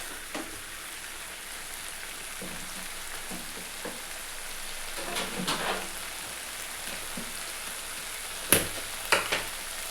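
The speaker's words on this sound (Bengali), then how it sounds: "ভালো করে একটুখানি কষাতে হবে এটাকে।" Masala for doi katla, a Bengali fish curry in yogurt, is sautéed in a pan with a faint, soft sizzle and occasional spatula scrapes, with a few sharper knocks near the end.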